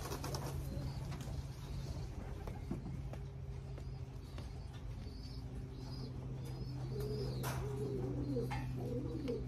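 Racing pigeons coo in a loft, low repeated coos over a steady background hum, with occasional wing flaps and faint rustling nearby and no one speaking.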